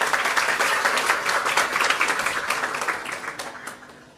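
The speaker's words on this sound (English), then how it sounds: "So a huge round of applause for all of you." An audience at the Sankalp Conclave 2025 at Miranda House college gives a round of applause. Many hands clap briskly, then the sound gradually thins and fades toward the end.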